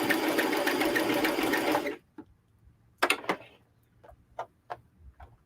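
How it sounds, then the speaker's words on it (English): A noisy domestic sewing machine runs loud and steady for about two seconds, stitching fast, then stops; scattered clicks and light knocks follow as the fabric and bobbin are handled nearby. "I don't know if these bobbins like this machine, but it makes a lot of noise and I don't like it"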